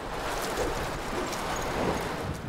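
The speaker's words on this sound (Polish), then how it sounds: "Wiatr." Steady, even wind noise in the video game Tomb Raider, rushing at a constant level, a broad whooshing hiss with no voices, like gusts blowing across an open landscape.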